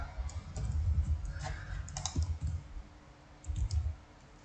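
Someone types on a computer keyboard in short bursts of quiet clicks separated by brief pauses, close and soft.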